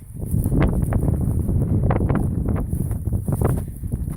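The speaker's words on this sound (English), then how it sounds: "so it's really windy up here." Wind gusting across an open hilltop, a continuous close rumbling roar buffeting the microphone with fluctuating bursts throughout, no talking.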